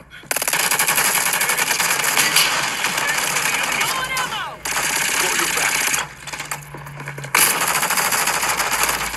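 Rapid automatic gunfire in a multiplayer shooter video game, loud and sustained with brief pauses, while players talk over it.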